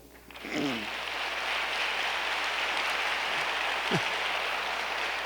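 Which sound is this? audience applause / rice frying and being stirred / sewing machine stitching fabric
audience applause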